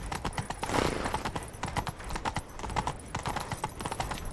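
Roach, a horse in The Witcher 3, gallops in a steady, rapid clip-clop of hooves, close and continuous, with a brief snort near the start.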